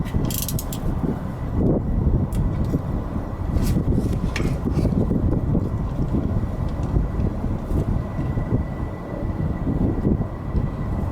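Socket wrench end turning and loosening the rear differential drain plug on a 1997-2003 Ford F-150, a steady close mechanical grinding and ratcheting churn with scattered metallic clicks, no talk.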